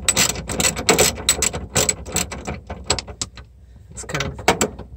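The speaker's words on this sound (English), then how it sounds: "So we've got our ratchet on here." A ratchet wrench clicks in short bursts while turning the liquid line valve on a residential air conditioner's outdoor condenser, crisp and near, with brief pauses between strokes and no talking.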